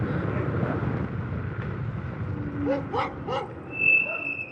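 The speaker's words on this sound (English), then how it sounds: "Hopefully they're on their leashes, because I don't want to get chased by the dog." A dog barks several times in a quick burst at moderate distance, heard from a moving scooter over steady outdoor background noise in Bridgeton, Missouri.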